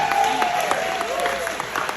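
Dense, loud applause and cheering from a graduation crowd, continuous rapid clapping with whoops and voices mixed in, filling the space from start to finish.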